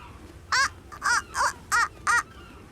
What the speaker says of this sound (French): Oui, ce sont des mouettes.